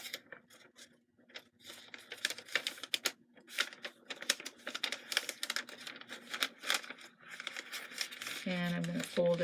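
Fabric being folded and creased into a kick pleat, giving a run of dense crinkling, rustling handling noises throughout, close and fairly loud, with a voice talking briefly near the end.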